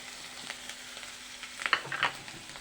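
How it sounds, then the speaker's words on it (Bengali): Onion and garlic frying in a pan with ground spices added, a quiet sizzle with a few sharper crackles and stirring scrapes near the end. "পেঁয়াজ রসুনগুলো ভালোই ভাজা হয়ে গেছে, এখন গুঁড়া মশলাগুলো দিয়ে দিলাম"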